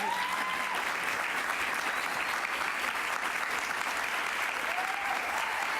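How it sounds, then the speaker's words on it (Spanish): A studio audience on a talk show breaks into steady, continuous applause, an even wash of many hands clapping at moderate level with a faint cheer or two, lasting the whole stretch. "un aplauso, por supuesto"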